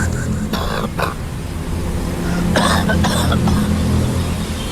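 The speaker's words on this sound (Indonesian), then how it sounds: "Suara batuk seorang lelaki yang nampaknya sih sudah tua dan berumur." An old man coughs in a few short, harsh bursts close by, with a low steady rumble in the background.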